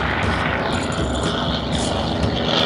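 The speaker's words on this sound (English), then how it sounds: "Sounds like a type flight of planes." A flight of propeller-driven warplanes passes overhead in a steady, loud, continuous drone of engines with a broad rumble and no break.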